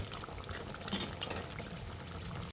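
Dal of red lentils with Malabar spinach bubbling steadily in a pot, a continuous soft boiling hiss with small pops, close and even throughout, no voices.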